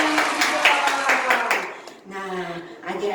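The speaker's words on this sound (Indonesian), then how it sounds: "Oke, beri tepuk tangan dulu buat Tuhan." Children and leaders at a church service clapping for God, a brisk run of rhythmic claps for about a second and a half, then fading into voices.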